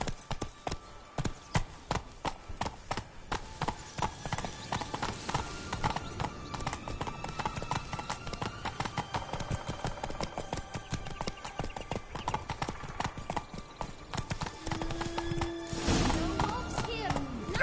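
Horse hooves clip-clop steadily on the ground in The Witcher 3 video game, a fast, even rhythm that runs throughout, with a brief neigh near the end.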